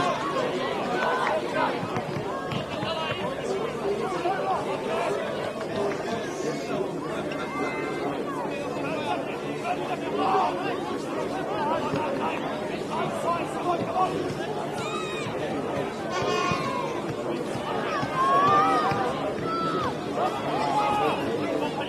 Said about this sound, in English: it is a loud crowd at the moment